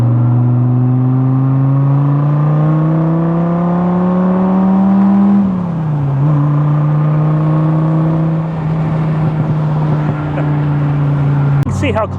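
A 2004 Dodge Viper's engine pulls in second gear around 3,000 RPM, a loud, deep droning note rising steadily, dipping briefly mid-run as the pitch settles, then a sharp noise at the very end, heard from inside the cabin.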